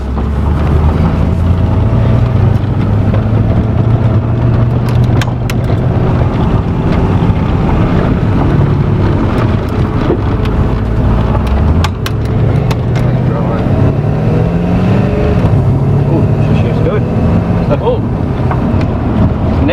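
A Holden VX Clubsport with a turbocharged LS1 engine rumbles and revs, its low note rising and falling steadily under wind buffeting, while voices talk nearby.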